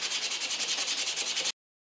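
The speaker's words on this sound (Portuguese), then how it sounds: "Então a gente vai lixar bem essas partes até que fique lisinho." MDF edges are hand-sanded for a ring holder in quick, even back-and-forth strokes, close and clear, about fifteen rhythmic rubs in a second and a half before stopping, with no talking.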